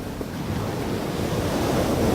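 Waves wash steadily onto the shore of the Dungeness Sandspit in the wildlife refuge, a continuous broadband surf roar with some wind noise on the microphone, building slightly louder toward the end, with no voices.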